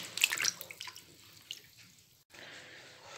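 Strawberries being washed in a basin of water, with splashing and dripping up close at first, then quieter trickles and a soft water wash toward the end.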